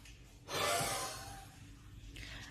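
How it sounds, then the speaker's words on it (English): A single forced huff exhalation through the open airway, a cough-like push of air used for airway clearance, rising sharply and trailing off into breathy noise, close and alone. "perform a huff, which is a cough but with a closed glottis"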